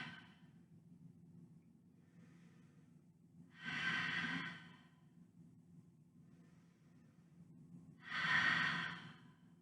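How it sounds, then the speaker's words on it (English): Two deep, drawn-out breaths taken while resting in child's pose during a yoga session, each a broad airy rush of air rising and fading, with quieter breathing and a low steady hum in between. "drop to child's pose. 5 big breaths in restfulness."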